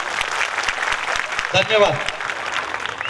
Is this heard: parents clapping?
yes